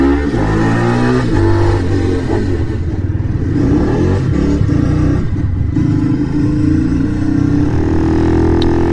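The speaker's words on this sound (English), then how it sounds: "just had to get around that roundabout and people and traffic, etc." A car drives around a roundabout in heavy traffic, its engine droning loudly and steadily throughout with some revving and rising pitch, close to the microphone and with no talking.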